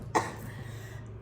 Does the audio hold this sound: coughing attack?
yes